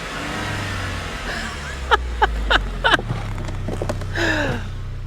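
A Saab 9-3 Turbo convertible with the top down, after an engine flush for low oil pressure, idles with a low, smooth, steady hum, while faint chirpy sounds pop in over it.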